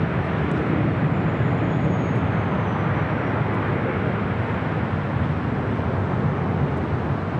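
A Cathay Pacific Boeing 777-300ER in oneworld livery landing at LAX, a broad, steady jet roar holding at constant loudness from start to end with no voices over it.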